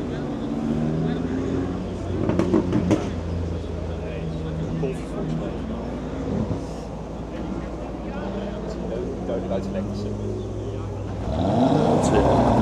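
Race cars at Circuit Zolder, an Audi RS3 and a Mercedes, accelerating hard with rising engine whine and rumble, some passing audible through a steady mechanical din, with people talking over it.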